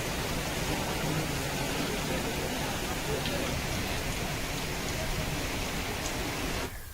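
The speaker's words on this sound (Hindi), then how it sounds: "आगरमालवा जिले में लगातार बारिश का दौर जारी है" Heavy, continuous rain pours down in Agar Malwa district during a prolonged monsoon spell, a dense steady hiss with no pauses that cuts off abruptly near the end.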